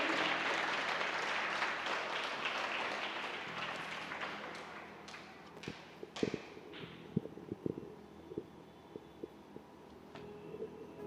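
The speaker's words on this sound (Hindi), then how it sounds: "एक बार जोरदार तालियों के साथ प्रभु को धन्यवाद देंगे" A congregation gives loud, dense applause in the DCC Hall of Sacred Heart Cathedral Church during a Yesu Kripa Satsang. It fades over several seconds into scattered, sharp individual claps.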